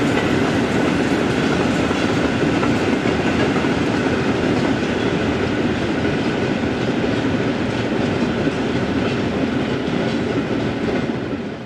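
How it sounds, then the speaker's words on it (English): Mainline diesel locomotive 6454 hauling a rake of hopper wagons south out of freight sidings in Belgium, a steady loud rumble and roar with rhythmic wheel clatter over rail joints, continuous and close throughout. "Here, mainline diesel number 6454 heads a rake of hoppers south out of the station's freight"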